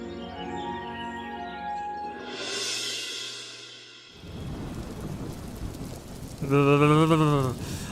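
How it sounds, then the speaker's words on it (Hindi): Heavy rain and a thunderstorm in a Hindi cartoon story, with a low rumble of thunder followed by dense, hissing rainfall and a brief tonal cry near the end. "चारों तरफ बारिश बढ़ती जा रही है"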